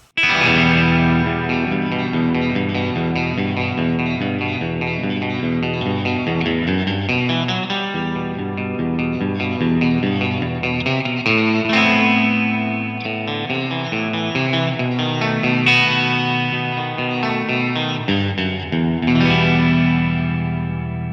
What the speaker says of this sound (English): if you max it out, there's even enough reverb for surf tones